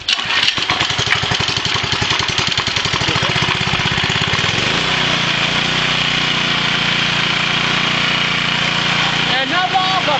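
A small petrol engine on a home-built alternator generator is pull-started and settles into a loud, steady running drone, with clattering starting pulls at first and people talking over the noise.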